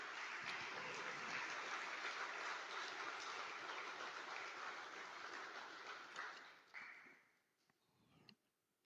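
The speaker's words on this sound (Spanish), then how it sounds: "Dale un gran aplauso al Señor." A church congregation claps together in a sustained, dense burst of applause during a Sunday service, fading out toward the end with a few scattered final claps.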